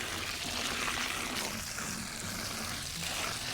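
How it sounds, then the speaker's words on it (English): Water from a hose pours steadily into animal feed on a homestead, giving a continuous close gushing and splattering flow with no talk. "I'm going to take it over to the water hose that we have over here, and we'll put some water in there"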